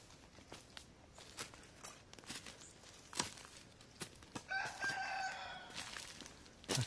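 Chickens on a rural smallholding in Brazil cluck and move about on the ground, with soft scratching and footsteps, and a rooster crows faintly in the background near the end.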